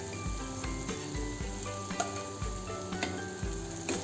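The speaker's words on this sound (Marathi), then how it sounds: "तर थोडी डाळ ह्याच्यामध्ये टाकत हे मिश्रण हलवून घ्यायचं आहे." Cooked dal poured into a hot, sizzling tadka in a pan and stirred, with a steady loud sizzle and frying crackle throughout, plus repeated soft scrapes and knocks of the spoon against the pan, no talking.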